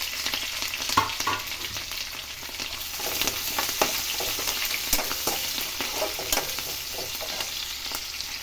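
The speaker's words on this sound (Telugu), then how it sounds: "ఆనియన్స్ పచ్చిమిర్చి ఫ్రై చేసుకుందాము" Onions and green chillies fry in oil in a pan for tomato mint rice, giving a steady, close, crackling sizzle with occasional scraping stirs and no talking.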